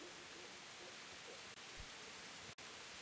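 Steady, hissing rainfall in a medieval Bohemian setting from Kingdom Come: Deliverance, a dense even wash of drops with no talk, unbroken apart from two brief dropouts.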